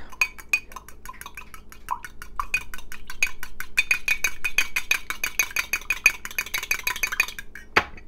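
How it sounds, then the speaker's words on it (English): An egg being whisked in a mug with a fork or spoon for bread pudding, a fast run of sharp clinks against the mug wall, quickening and growing louder before a final scrape. "Let's whiz up the egg."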